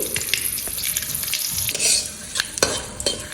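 Bay leaf, three dried chillies and nigella seeds fry in hot oil with a loud, close crackling sizzle, broken by quick stirring scrapes and spatter bursts, and no talk.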